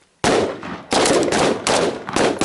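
Gunshots ring out at a night shoot, where rounds are fired at targets in a neighbourhood-defence drill: three loud, close, sharp reports spaced about a second apart, each followed by a short echoing tail.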